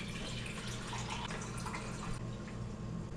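Filtered water pours steadily into a container for a hot sauce brine, a soft continuous splashing trickle heard fairly quietly with no talking.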